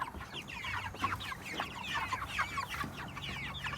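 Chickens in a backyard coop cluck and chatter repeatedly, several birds close by with short overlapping calls over a low background.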